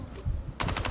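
A short burst of automatic gunfire in the mobile shooter game Call of Duty Mobile comes as rapid, close, sharp repeated shots after a brief muffled thud.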